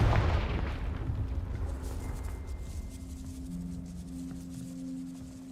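Confringo, a fiery blasting spell cast in the Hogwarts Legacy game, opens with a booming explosive burst that decays into a long rumbling tail, with faint tonal hums lingering afterward.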